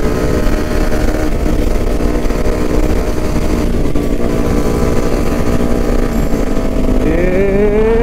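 Four KTM motorcycles riding together on a Sunday group ride, engines droning steadily and loudly at close range, with one rising in pitch near the end as it revs up.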